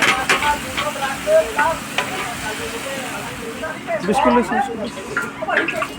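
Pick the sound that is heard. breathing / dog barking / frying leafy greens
frying leafy greens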